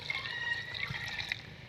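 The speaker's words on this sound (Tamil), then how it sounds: "இது கூடயே தேவைங்கிற அளவுக்கு தண்ணி சேர்த்திக்கலாம்." Water is poured into an eggplant and soybean curry in a pot, a faint, steady trickle lasting about two seconds.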